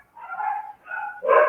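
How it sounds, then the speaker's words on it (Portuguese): Several dogs bark and yelp close by in quick, loud, overlapping bursts, with a shrill outburst at the end. "olha a cachorrada gritando e latindo"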